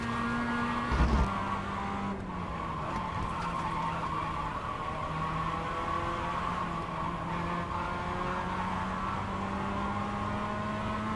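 Mazda Miata race cars in a racing video game at the Rudskogen circuit accelerate out of a corner, several engines droning loud and steady with slowly rising pitch and a faint tire squeal, with no voices.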